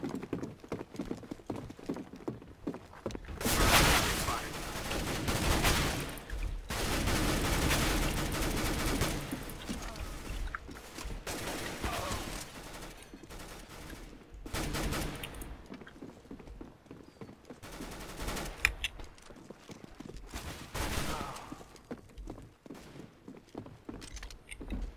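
Bursts of rapid automatic fire from a P90 submachine gun in Counter-Strike: Global Offensive come in several spaced volleys, loud and crackling, with quieter gaps between.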